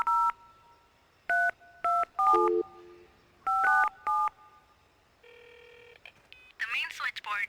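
A telephone keypad in the video game Trespasser beeps out a run of dialing tones in uneven bursts, followed by a steady tone and a brief crackle of sound at the end.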